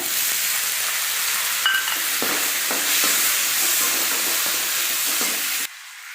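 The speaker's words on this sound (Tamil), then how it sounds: "அப்புறம் தக்காளி வதங்கட்டுங்க." Crushed garlic and tomatoes sizzle steadily in a hot pan while red aval upma is being cooked, a continuous frying hiss with faint stirring clicks, and no voices.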